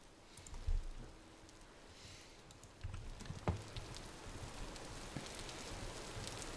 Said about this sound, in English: Is the rain at an appropriate level?